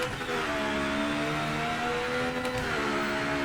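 Hypercar in the racing game Project Motor Racing, carrying the same screeching, squeaking whine as the BMW M8 GTE: a steady engine drone with layered high-pitched tonal squeals running continuously throughout.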